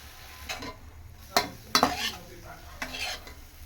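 Fried bread slices being stirred in a pan for chilli bread, with scraping spatula strokes and clinks against the metal over a faint sizzle, a few sharp louder hits standing out, no talking.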